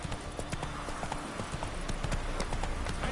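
Hoofbeats of Roach, the horse in the video game Witcher 3, galloping in a steady clip-clop rhythm, close and continuous across the whole stretch.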